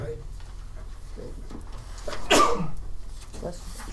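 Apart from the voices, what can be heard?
sneeze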